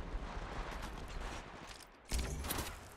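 Gunfire in the battle royale shooter Apex Legends, a dense, quiet rattle of shots and game effects that breaks off briefly before a louder burst resumes.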